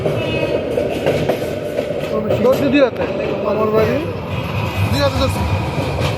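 A train rumbles past close by with a steady, loud roar and rail clatter, while people talk over the noise.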